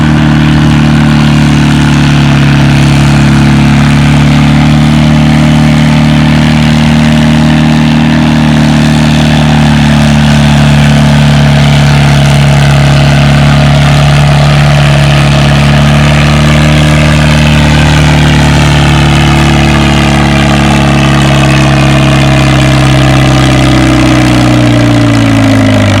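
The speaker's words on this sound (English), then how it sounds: "here comes the last hook in the class, the Farmall 350" A Farmall 350 tractor pulls a 5,500-pound sled at the Othello Spring Nationals tractor pull, its engine roaring loud and continuous, droning steadily with a slight pitch drop toward the end.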